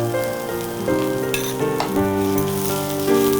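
Chili powder sizzles as it fries with browning onions in a little oil, a loud, steady crackling hiss throughout with tonal background music layered over it.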